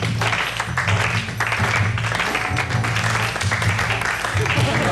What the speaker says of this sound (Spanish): Un aplauso para la pareja.